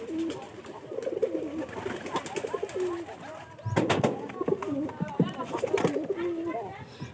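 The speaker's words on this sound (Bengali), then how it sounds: "এই একটা কবুতর আপনারা দেখে রাখেন" Pigeons in a tin coop coo repeatedly, close by, in soft rolling phrases with some wing flutters, while a person talks over them.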